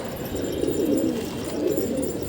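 A pure white pigeon held in the hand gives soft, low cooing throughout, close and continuous against a quiet background.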